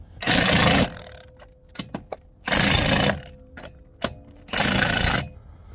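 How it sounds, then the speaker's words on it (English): Milwaukee impact wrench on setting 2 checking lug nut torque on a Kia Carnival, three loud rattling bursts close up, each under a second, with brief clicks and quiet gaps between. "I'm going to check it with this impact just to make sure."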